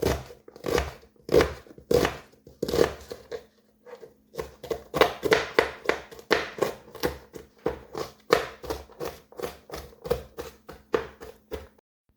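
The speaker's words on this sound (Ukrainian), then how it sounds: "Нарізаю дрібненьку цибульку." A knife finely chops onion on a cutting board, a quick even run of sharp taps with one brief pause, close by and without talk.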